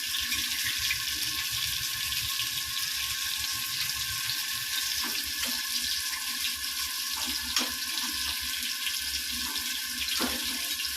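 Water pouring from a tap or vessel into a cooking pot of female crabs, a steady splashing rush throughout with a few brief clanks of the pot, and no voices.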